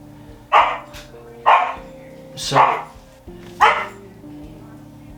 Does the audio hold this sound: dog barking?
yes